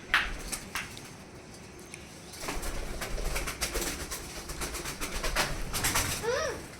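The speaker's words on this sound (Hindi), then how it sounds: "कबूतर अंकल की आवाज़ आ रही है इधर से।" Pigeons cooing from a building duct, several soft low calls drifting in and out alongside brief bursts of a voice and a bright chirp near the end.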